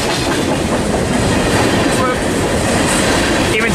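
A freight train rolls past on the rails, a loud steady rumble with broadband rattle and faint clatter, close and continuous throughout, with brief squeals near the end.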